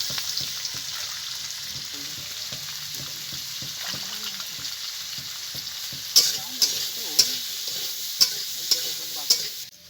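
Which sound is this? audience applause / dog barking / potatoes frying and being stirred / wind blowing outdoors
potatoes frying and being stirred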